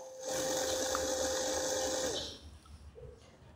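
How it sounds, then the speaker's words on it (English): A LEGO WeDo motor spins with a steady, loud electric whine that holds for about two seconds and then cuts off, leaving quiet room noise. "the motor will keep on turning, and the program will keep on looping again and again"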